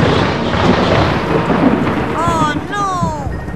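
Thunder rumbles loudly and continuously under what sounds like heavy rain in Miami, with a few bird-like or whistled chirps sliding in near the end.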